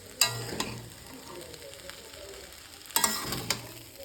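Onion, tomato, chilli and egg frying in a pan for egg chow mein, with a couple of sharp stirring clatters and a low sizzle running underneath, no voices.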